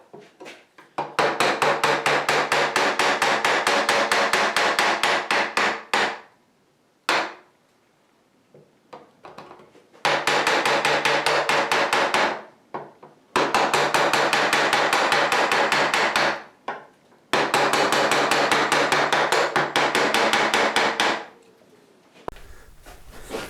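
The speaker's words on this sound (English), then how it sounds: "Okay, so that's all the chiseling done." A chisel works wood on a Telecaster guitar body build, three long bursts of dense, rapid, loud tapping strikes separated by short pauses, close by with no talk.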